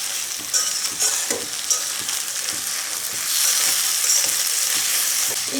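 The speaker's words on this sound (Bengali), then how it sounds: "এখন আমি মশলার সঙ্গে চিংড়ি মাছগুলো খুব ভালোভাবে মিশিয়ে নেব" Prawns from a home pond are stirred through spice masala in a pan for a malai curry, producing a steady hiss and sizzle with repeated scraping strokes of a spatula, close up, with no voices.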